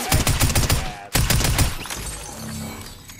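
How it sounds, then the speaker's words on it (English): Rapid bursts of automatic gunfire in a video game rattle loudly, a brief cut, then more firing that trails into rumbling explosions and a low mechanical hum. "More gunfire up there"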